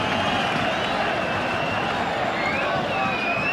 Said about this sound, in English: you know that crowd is following it just by the noise they're making tonight